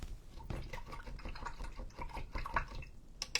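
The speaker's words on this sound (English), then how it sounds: "wash out my brush" Paint brush swished and rinsed in a water jar, giving a run of close, small drips and splashes with irregular sloshing and clinks, no talking.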